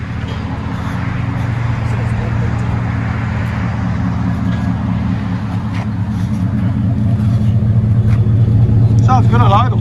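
A Ford F150 with a 5.0 Coyote V8 idles close by through an aftermarket exhaust, giving a steady, loud, deep rumble across the whole stretch while people talk over it.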